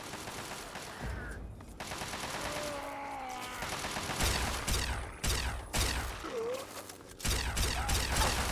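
Gunfire from the video game Fallout 3 rattles in repeated bursts over a dense, loud game soundscape of explosions and whooshing effects, with sharp cracks and breaks at several points.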